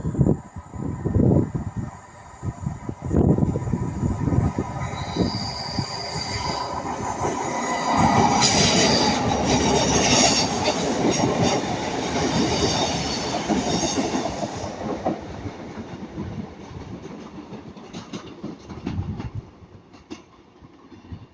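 A Class 150 train rumbles past close by at Ardwick, building to a loud roar with rattling wheels and a brief high squeal, then fading away over about twenty seconds.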